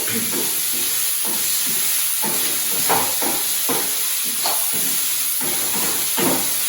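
Tomatoes and ground turmeric sizzle steadily in a hot pan for a dal. A loud, continuous frying hiss is broken by rhythmic scrapes and stirs of a spoon.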